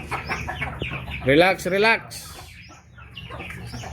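Domestic ducks call out in their new enclosure, giving a few loud, close, harmonic quacks in the middle over steady low background noise, while people talk briefly.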